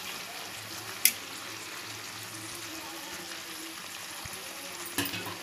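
Sliced onions with a pinch of turmeric cook down in a pan with a soft, faint, steady sizzle, broken by a couple of brief knocks near the start and end.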